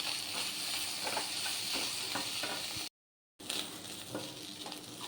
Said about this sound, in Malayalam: അത് നന്നായി ഇളക്കി യോജിപ്പിച്ച് കുറച്ച് മൊരിയുന്നത് വരെ ഇളക്കണം